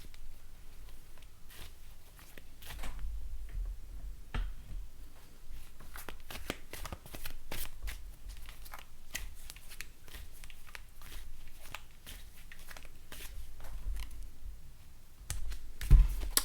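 Connolly Tarot cards being shuffled by hand, a steady run of soft riffling clicks and flicks over about sixteen seconds, close and fairly quiet, with no one talking.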